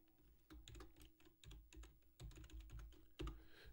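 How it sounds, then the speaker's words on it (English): Rapid keystrokes on a new gaming keyboard, close and distinct, clattering in quick irregular bursts with brief pauses between runs, no voices. "Y'all might hear my keys. I got a new keyboard."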